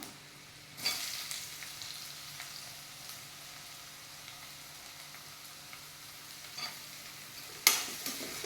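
Chopped onion frying in coconut oil for fish molee, a continuous soft sizzle with a few sharp spoon scrapes against the pan.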